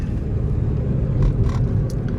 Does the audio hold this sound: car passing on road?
yes